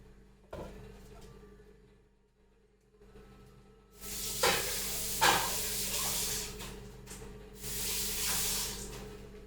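Loud sizzling and hissing of a pork chop frying in hot oil on a tawa bursts in after a few quiet seconds, with a couple of soft knocks at the start.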